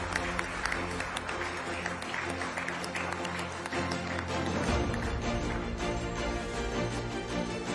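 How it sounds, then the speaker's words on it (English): An audience applauds at an awards ceremony honouring unsung heroes, steady moderate clapping mixed with background music and murmuring from the hall. "A big round of applause."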